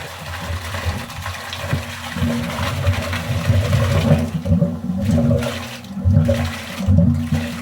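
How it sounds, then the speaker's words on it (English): Gas pressure at an oil well lease builds and releases, pushing water into a separator tank with a steady gushing, rushing flow and low pump-like rumble, loud and close, swelling in surges without speech. "So that's gas pressure building up and releasing and pushing the water into the tank."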